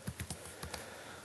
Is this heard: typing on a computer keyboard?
yes